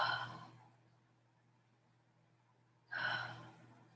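Two soft exhaled breaths during a stretch class, each a brief airy sigh about three seconds apart, faint and close with quiet room hum between.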